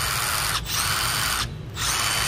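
A compact Milwaukee 12V cordless impact driver runs in loud, sustained whirring bursts with two brief pauses between them, close up and alone.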